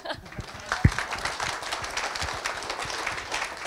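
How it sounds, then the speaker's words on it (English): Applause from an audience at a citizens' assembly session in Glasgow: a steady patter of many hands clapping at moderate distance for a few seconds, with voices faintly mixed in. "More spontaneous applause if you want."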